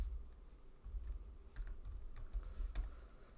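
Typing on a computer keyboard, a few soft, sparse key taps at close range over a low background hum, with no talk.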